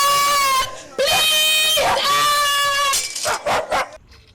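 A dog barks and yelps loudly at close range, several drawn-out howling barks followed by a few shorter yips that fade at the end.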